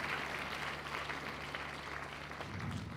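Audience applause at a university inaugural lecture, a faint, steady wash of distant clapping from a hall, continuous for a few seconds with no break, recorded at low level under a faint background hum.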